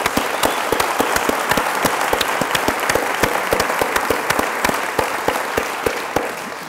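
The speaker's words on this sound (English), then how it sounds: "Could we have one quick round of applause" An audience at a book event on Barack Obama and a changing America claps in tribute, a sustained round of dense applause with sharp individual claps standing out, loud and close, tapering slightly toward the end.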